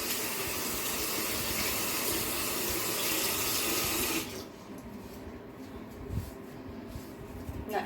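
Tap water runs loudly and steadily while hair dye is rinsed out of hair, then cuts off abruptly, leaving quieter splashes and drips.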